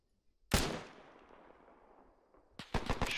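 A single sharp rifle shot in Arma 3 cracks out and rings off in a long fading echo over an open ridge, then a quick run of several more shots follows close together, with no talking.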